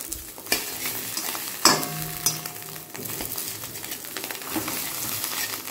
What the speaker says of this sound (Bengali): তো এখন এরকম করে ডিমটা ভেজে আর পিস পিস করে নিচ্ছি।